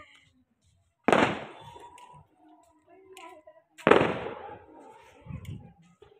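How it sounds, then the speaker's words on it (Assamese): Two loud, sharp firecracker bangs go off a few seconds apart at a New Year's midnight celebration, each followed by a decaying rumble, with faint voices and murmurs in between. "আমি বম ফুটাবলৈ আহিছোঁ, বম ফটকা।"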